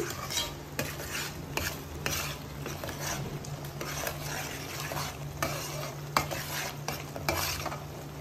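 A spoon stirs restaurant-style butter chicken gravy with cashews as it fries in a pan: a steady sizzle under repeated scraping strokes and occasional metal clinks against the pot, close and fairly quiet, with no talking.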